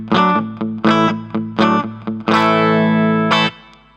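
Electric guitar played through overdrive with a touch of reverb, in a beginner lesson: a run of short, loud distorted chord stabs, then one sustained chord that rings out and decays, heard alone.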